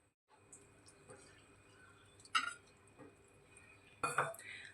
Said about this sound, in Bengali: আমরা একটু একটু করে দুধটার সঙ্গে ময়দাটা গুলতে থাকবো